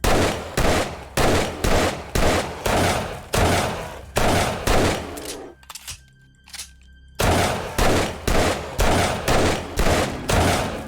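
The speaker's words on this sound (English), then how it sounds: "I'm shooting you in the ass." Gunfire aimed at a zombie bear in the 7 Days to Die video game comes as loud, close, rhythmic bursts of repeated shots, broken by a short quieter pause before the shooting resumes.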